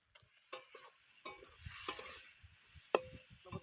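Chili powder spice mix is sautéed in a pan before raw fish goes in, with quiet, sparse spatula taps and scrapes over a low sizzle.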